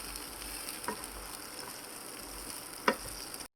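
Tofu fries in a pan until golden brown, a steady close sizzle with a couple of sharp pops and scraping stirs, no talking.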